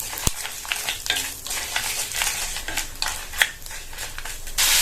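Lentils and tamarind fry together in a pan for chutney, with a steady close sizzle broken by sharp clicks and scrapes of a utensil stirring against the metal, and no talking.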